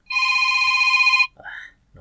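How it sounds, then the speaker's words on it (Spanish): A telephone rings in a hospital setting, giving one steady electronic tone that holds for about a second before cutting off, followed by a short, quieter warble. "suena el teléfono."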